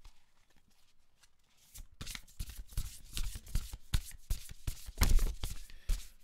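Angel Wisdom oracle cards are shuffled in quick, crisp bursts of riffling and flicking that follow a quiet opening second or two, close and fairly soft.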